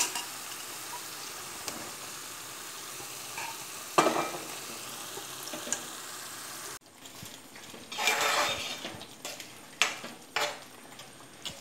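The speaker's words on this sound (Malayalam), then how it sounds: "ഇത് നന്നായിട്ട് ഇളക്കി കൊടുക്കുക" Chicken frying in a pan for a homestyle Kerala chicken roast, with a steady sizzle under scraping strokes of a spoon stirring, growing busier and more clattery later on.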